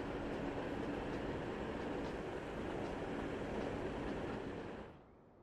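A train in the Transport Fever 2 video game rolls onto the correct track, a steady broadband rumble of rail travel that holds at an even level before cutting off near the end, with no voices.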